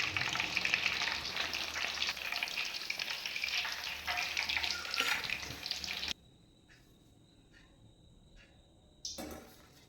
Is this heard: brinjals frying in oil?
yes